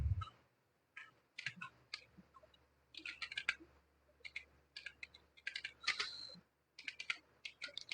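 Quick, close keystrokes tap on a computer keyboard in irregular bursts separated by brief pauses, with occasional louder key clicks and no speech.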